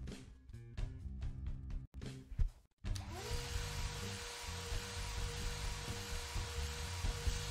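Vacuum cleaner in The Call of Karen video game, a steady loud motor whine that starts abruptly after a few clunky thumps and keeps running unbroken to the end.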